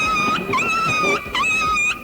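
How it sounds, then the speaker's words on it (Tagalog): A dog whimpers and whines in high, wavering cries after being caught in a door, several drawn-out yelps close by with short pauses between them. "Yung aso mo po yung naipit."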